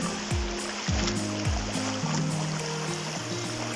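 Very cold river water flows out of a cave entrance in the Har Ki Doon valley, making a continuous rushing wash broken by a few low tonal hums or rumbles.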